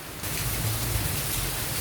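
Heavy rain pouring steadily near an old wooden house in Port Louis, Mauritius, a dense even hiss that swells in after a brief quieter start and holds constant.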